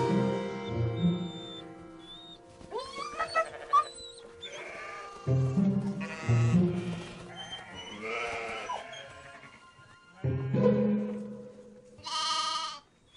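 Sheep in Romania bleating repeatedly, several calls overlapping at close to middle distance, with one higher, wavering cry near the end; no talk, only scattered rustle between calls.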